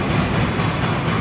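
A slow train in China, travelling from Weifang to Qingdao, gives a steady, dense low rumble of rolling carriages that runs without a break from start to finish, loud and close, with no voices.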